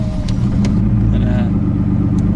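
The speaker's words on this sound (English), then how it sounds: "time to give it some revs" A sports car engine rumbles low and steady close by, running throughout with people talking over it.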